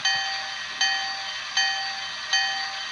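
A Bachmann Echo Valley Express toy train set bell clangs four times at a steady, even pace, each ring bright and metallic, fading slightly before the next strike.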